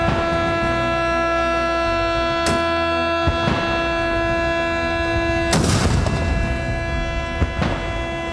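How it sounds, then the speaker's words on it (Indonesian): Ceremonial cannon salute at an Indonesian independence flag ceremony, booming reports standing out over a sustained siren-like drone and bells, a couple of sharp blasts spaced seconds apart with one heavy rumbling burst. "disusul tembakan meriam 17 kali, sirine beduk di masjid-masjid dan lonceng di gereja-gereja"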